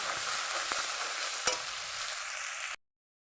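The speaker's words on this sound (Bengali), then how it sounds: "মশলাটা ভেজে নিলাম ভালো করে পরিমাণ মতন হলুদের গুঁড়ো পরিমাণ মতন নুন এবার নেড়ে চেড়ে দেবো" Masala with turmeric powder and salt is stirred as it fries in a pan, giving a close, even sizzle with a few soft scrapes and one sharper knock, then cutting off abruptly.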